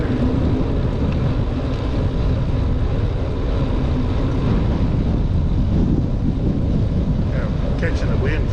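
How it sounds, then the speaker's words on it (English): Steady northwest wind roars across the microphone during a bike ride through a suburban neighborhood with parks, a constant loud low rumble with a faint voice beneath it. "Catching the wind, kind of a northwest wind."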